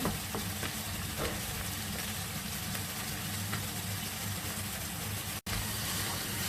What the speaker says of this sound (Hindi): इसको हाई फ्लेम पे आपने फ्राई करना है सब्जियों को